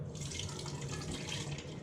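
Juice from canned fruit pours steadily into a small pitcher fitted with a drainer, a soft continuous splashing trickle at low volume with no break.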